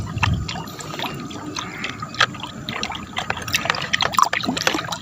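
A liquid mixture being stirred continuously until it fully dissolves, a close, steady sloshing and trickling with small splashy clicks, no talk.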